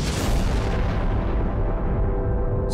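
A Big Bang explosion sound effect in a space documentary: a loud, sustained rumbling roar that fills the whole stretch, dense and booming, slowly losing its upper hiss toward the end.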